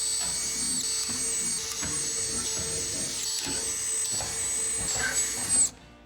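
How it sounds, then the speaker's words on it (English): A high-pitched power drill with a small bit whines steadily at close range for several seconds, drilling small holes, then winds down and stops abruptly. "we're just going to use a smaller drill bit, drill our little holes"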